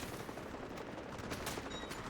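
Dense, continuous gunfire and explosions from an artillery barrage in the video game Delta Force, loud and sustained with sharp cracks throughout and no talk.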